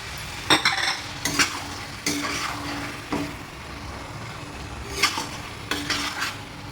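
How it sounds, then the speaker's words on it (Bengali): Chicken and chopped tomatoes being stir-fried in a pan for a home-style chicken aloo curry, a constant sizzle broken by repeated spoon scrapes and clanks against the pan at irregular intervals. "খুব ভালো করে কষিয়ে নিচ্ছি"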